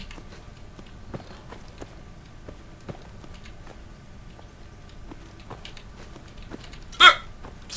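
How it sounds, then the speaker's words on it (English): A single sharp hiccup breaks through near the end, loud and abrupt over faint ticking footsteps and quiet game ambience from Fallout 4. "Sorry, hiccups."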